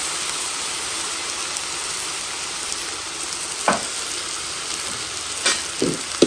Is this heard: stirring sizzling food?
yes